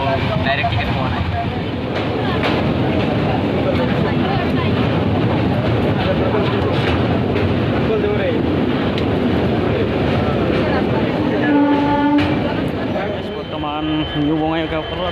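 Passenger train running toward New Bongaigaon in Assam, a steady loud rumble and rattle of the carriage filling the whole stretch, with people talking over it and a brief tonal whine near the end.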